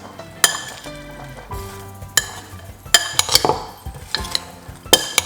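Utensils clink and scrape against a bowl as salad ingredients are tossed together, with sharp irregular taps and rattles between softer stirring sounds.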